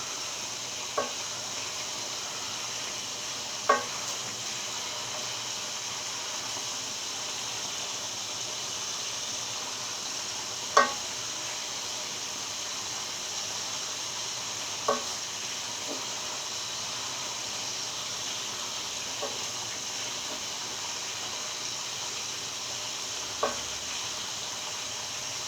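Chicken frying in a home kitchen pan gives a soft, constant sizzle and hiss throughout, broken by a handful of small pops and utensil taps spaced several seconds apart, no voices.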